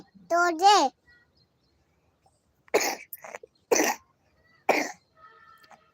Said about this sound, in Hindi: हो रही है अभी बहुत ज्यादा खांसी।